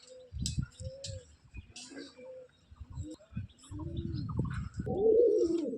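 An old-line male Giribaz pigeon coos close up in repeated low, rolling calls that grow louder and fuller toward the end, with a few sharp chirps and some nearby talking mixed in.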